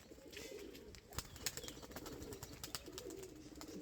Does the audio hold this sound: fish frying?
no